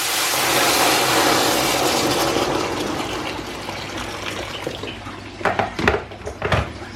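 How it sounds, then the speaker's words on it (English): Water poured into a pot to start a soup, a steady rushing pour over the first few seconds that fades, then a few sharp clinks and knocks of cookware near the end. "I'm just going to pour some water in there."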